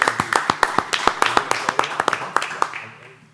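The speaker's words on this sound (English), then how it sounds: "Round of applause, please." Applause at a school board meeting, a small group clapping in a brisk, distinct rhythm close by, claps clearly separated and gradually fading out toward the end.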